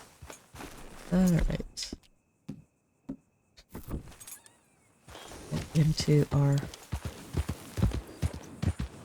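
Horse hooves clip-clopping in Red Dead Redemption 2, intermittent bursts of hoofbeats on ground, close and moderately loud, mixed with someone talking over the gameplay.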